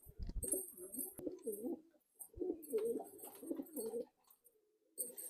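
Madrasi and Malwai pigeons coo in soft, repeated rounded phrases separated by short pauses, fairly close and quiet, with no talking.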